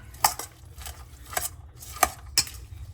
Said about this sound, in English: Put that right into our slaw or our cabbage. 5 cups of cabbage. We're gonna mix it up nicely.